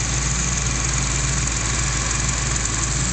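A 1974 Triumph Stag with finely tuned carburetors idles smoothly, a constant, even low hum with a steady beat that holds unchanged from start to finish, close by and with no voices.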